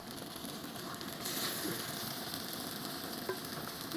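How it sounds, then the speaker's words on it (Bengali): Steady soft sizzle of taro leaf fritters frying in oil in a wok, a continuous crackling hiss at low level with no voices. "এখন আমি কড়াইতে দিচ্ছি বড়া।"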